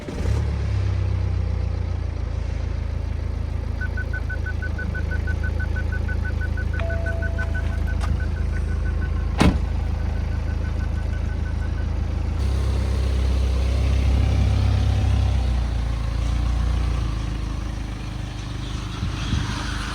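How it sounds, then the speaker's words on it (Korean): BMW 118d diesel car engine idling after starting, a steady low rumbling run lasting throughout with a faint beeping chime partway and one sharp click, no talk. "지금 시동이 안 걸렸었다고 하는데 지금 걸리네요"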